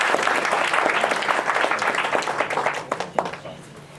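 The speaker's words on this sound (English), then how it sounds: "I think the audience, I think you deserve a round of applause." Audience applause after musical renditions at an estate dedication ceremony, a dense steady round of clapping that thins toward the end into a few distinct louder claps.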